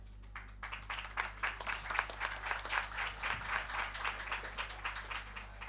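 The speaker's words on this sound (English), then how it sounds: "So please, big applause for the organizers and for your all attendance." Applause from a conference audience at an event on the disruptive future and equality, a fairly dense round of clapping with steady individual claps throughout, moderately loud against a low steady hum.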